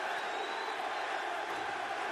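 A large arena crowd at a Bellator MMA fight applauds and murmurs in a steady, even wash of noise from a distance, with no single voice standing out.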